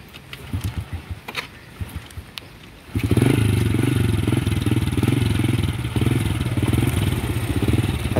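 A stalled motorbike, drenched in rain in the countryside, catches and starts about three seconds in, then runs loud and close at a steady, slightly uneven idle.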